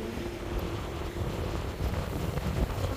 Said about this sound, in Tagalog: Hindi ako magtatagal dito guys kasi masyadong mahangin.